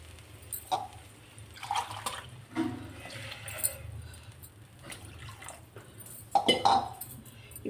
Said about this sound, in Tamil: நம்ம இன்னும் கொஞ்சம் தண்ணி ஊற்றிக்கலாங்க.